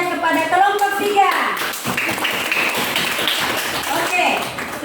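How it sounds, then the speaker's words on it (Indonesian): A classroom full of children claps for group 3, brisk scattered hand claps and taps running under a teacher's voice and kids talking. "beri tepuk tangan yang meriah kepada kelompok 3"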